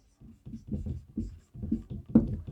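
Chalk or marker scratches across a board during a chemistry lesson, a quick series of short rhythmic strokes with brief pauses, close and fairly quiet.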